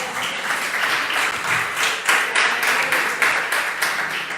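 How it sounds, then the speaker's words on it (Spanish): A church audience applauds for a pastor's wife, a dense steady wash of many hands clapping for several seconds, fairly loud with slight rhythmic swells. "Un aplauso para mi bella esposa"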